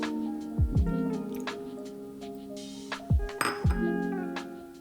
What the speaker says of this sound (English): Now you can put all the ingredients into the pot.